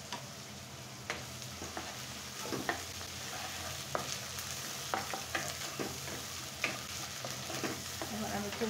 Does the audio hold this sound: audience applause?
no